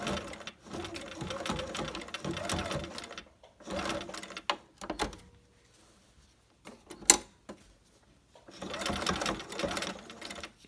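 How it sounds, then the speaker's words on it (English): A sewing machine top stitches a fabric face mask in quick whirring bursts separated by short pauses, close and moderately loud, with a small click in one gap. "I'm just going to go ahead and top stitch right down that line."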